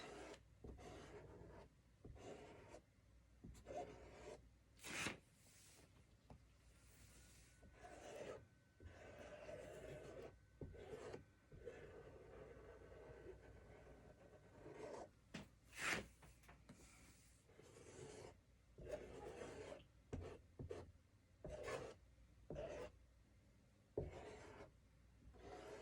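A squeegee scrapes excess chalk paste across a stencil in repeated short strokes, giving quiet rasping drags interspersed with taps and pauses, close but faint, with no talking.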